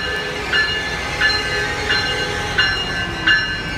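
Siemens SC44 Charger locomotive 2112 rolls through Fullerton station in a steady, loud rail rumble. Regular clicks from the wheels over rail joints recur about every second, with no voices.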